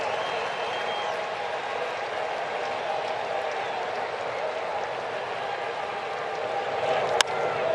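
A big baseball crowd on its feet sends up a steady, dense roar of cheering and applause throughout, with one sharp crack late on.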